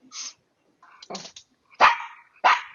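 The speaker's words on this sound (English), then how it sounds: "Where's that damn dog even coming from?" A dog barks in short sharp bursts, four distinct barks spaced unevenly with silence between them, close and fairly loud.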